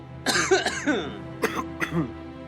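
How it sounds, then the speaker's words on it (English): Several people in a line cough in quick bursts, a few harsh close coughs clustered together and then two shorter ones after a pause. "All of a sudden, a trio in the line coughed."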